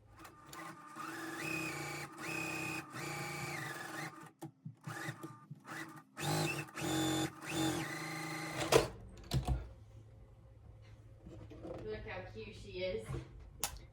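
A sewing machine stitches a quilt block in a steady mechanical whir, stopping and starting in short runs, with someone talking over it.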